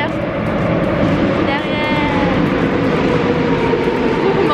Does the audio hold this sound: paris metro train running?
yes